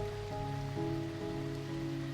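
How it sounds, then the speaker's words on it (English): Rain falling in the early morning, a steady, even hiss of drops on surfaces with a low constant hum underneath, no thunder and no voices. "You're greeted by the sound of rain."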